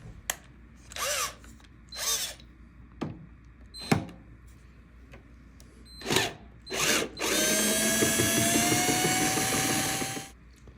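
A power tool removes screws from the back of an EV charger in several short, sharp whirring bursts separated by pauses, followed by one longer sustained run near the end.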